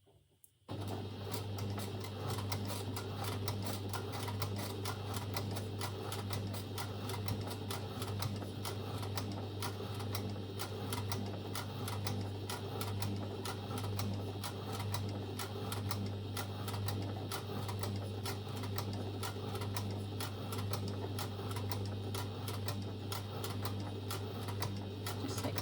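A sewing machine runs at a steady even speed for a long stretch, topstitching a dress with topstitching thread, its rapid needle ticking over a continuous motor hum, with no talking.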